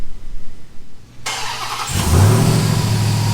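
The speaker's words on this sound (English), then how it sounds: "We're going to go ahead and roll it in on the dyno, so we're just putting it in gear, getting it forward" A 2021-2024 Ram 1500 TRX with its 6.2-litre supercharged V8 idles with a low rumble, then its engine swells loudly as the truck is put in gear and driven forward onto a dyno indoors.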